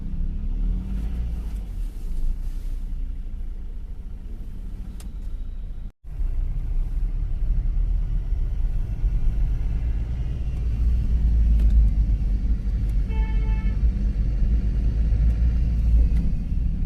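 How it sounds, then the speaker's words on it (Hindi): Road traffic noise at a congested spot: a steady, loud low rumble of passing cars and motor vehicles, continuous with a brief dropout, with no one talking over it. "इस वक्त यहाँ पे जाम हो जाता है, ट्रैफिक जाम हो जाता है"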